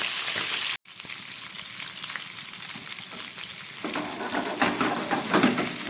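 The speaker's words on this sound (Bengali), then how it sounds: "তেলটা গরম হয়ে গেছে, মাছগুলোকে ভেজে নিচ্ছি" Parshe fish frying in hot oil in a frying pan, a loud, dense crackling sizzle that drops out for an instant, then returns and swells slightly toward the end.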